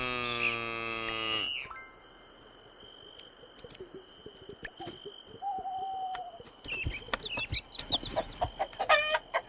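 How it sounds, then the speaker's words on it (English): A chicken clucks in the farming game Moonlight Peaks, short clucks and a rising call amid chiming game sounds and a soft hooting tone, with no speech. "Happy chicken."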